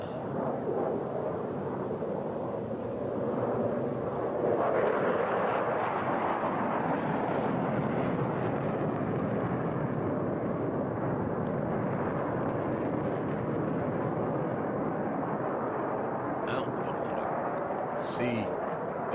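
A Tejas fighter jet pulls up into a vertical loop at an air show, its broad roaring engine noise sustained and swelling through the clip, with a sharp crackle near the end and a commentator talking over it.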